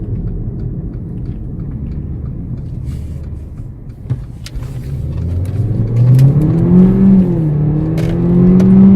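A 2014 Mercedes CLA45 AMG engine rumbles under load, then climbs in pitch as the car accelerates hard, its revs rising steadily and loudly from inside the cabin with no talking.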